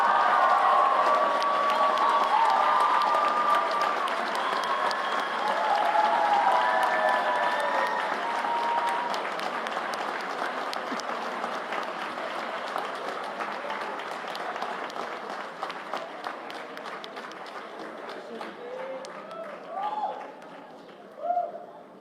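A large audience applauds and cheers for the best speaker at the WSDC 2025 debating grand final, a dense sustained roar of clapping that slowly thins out toward the end with scattered claps.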